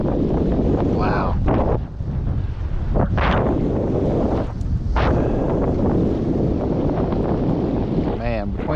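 Strong wind buffets a Tracker Panfish 17 fishing boat holding against a fast current near rocks, a steady loud roar of wind noise across the mic with water movement underneath and brief bursts of speech.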